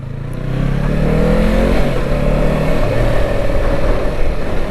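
A Yamaha R25 motorcycle engine revs up from idle into a steady loud drone, the pitch climbing and holding, close and continuous with no talk.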